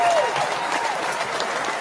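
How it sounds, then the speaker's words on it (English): Audience applause for an award presentation on a talk show, a steady wash of clapping from a crowd throughout, with a voice briefly audible over it. "So that is a big applause for my Dr. Marissa."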